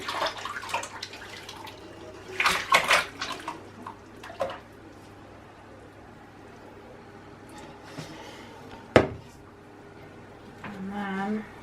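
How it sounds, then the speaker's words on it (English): Elderflower cordial is poured from a bowl into a jelly straining bag, giving a few short bursts of splashing and trickling liquid between quiet stretches, with someone talking throughout. "I'm going to stretch it over the bowl and then just literally pour all of this"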